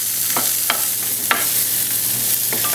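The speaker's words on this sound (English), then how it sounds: "We're going to start frying up this cauliflower." Cauliflower sizzles and fries steadily in a pan, with a few sharp scraping stirs cutting through the hiss.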